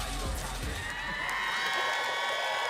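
Crowd cheering at a bodybuilding contest at the 2018 Olympia, as a bodybuilder poses onstage: dense sustained arena cheers and whoops with a commentator talking over them.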